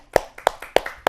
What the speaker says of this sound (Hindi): तो तालियों से हम स्वागत करेंगे विजय कौशिक जी का।